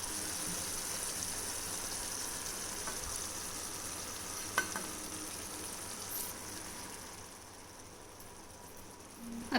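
Eggs cook in a tomato mixture in a pan, giving a continuous, even sizzle and bubbling that holds steady for several seconds, with a faint clink or tap partway through and no voices.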